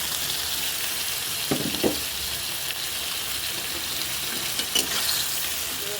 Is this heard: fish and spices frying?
yes